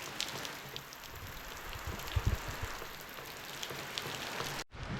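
Steady rain pours down over a rural Thai village, a dense continuous hiss of drops striking surfaces close by, with a few brief louder knocks partway through, before the sound cuts off abruptly near the end.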